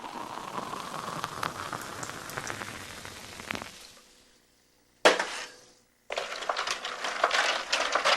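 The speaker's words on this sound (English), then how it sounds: "topped up with standard issue club soda." Club soda poured over raspberry syrup in a glass fizzes and crackles with a dense, rain-like hiss, broken by brief pauses and a fresh burst of pouring and bubbling.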